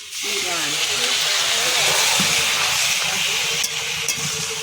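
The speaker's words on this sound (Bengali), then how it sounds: "অল্প করে জল দিয়ে দিলাম" Water hits a hot pan while cooking a vegetarian jackfruit curry, giving a loud, steady steaming hiss that sizzles continuously throughout with little change in level.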